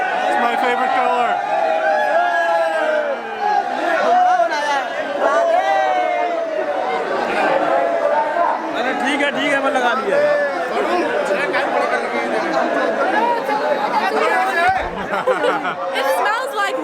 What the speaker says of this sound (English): Got ourselves a bit of a crowd around us here.